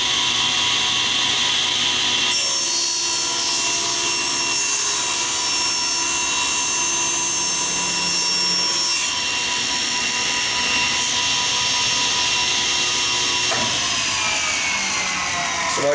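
Power saw trimming the end off a wooden board to remove a crack, a loud continuous high-pitched whine with shifts in tone as the blade cuts through the wood, close by and without speech.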